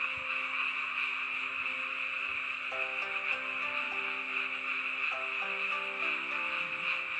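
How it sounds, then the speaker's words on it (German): Large crickets calling from trees at a campsite in Japan, a steady croaking, frog-like chorus with overlapping tonal pulses that continues throughout, moderately loud against a constant insect hiss. "riesengroßen Grillen, die hier sind, die solche Geräusche machen. Hören sich ein bisschen an wie Frösche"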